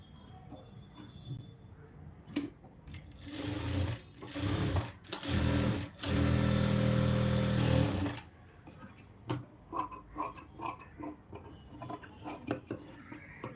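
Sewing machine stitching a blouse lining near the neckline, a few short runs building to a long steady burst, then quieter handling and clicks.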